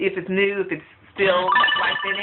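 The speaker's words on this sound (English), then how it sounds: "Excuse my phone, it's getting messages." A mobile phone chimes with incoming message alerts, short bright tones sounding under a person's ongoing close talk.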